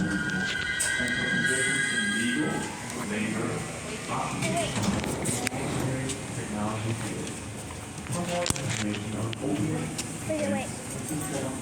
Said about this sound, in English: Our train is here, guys.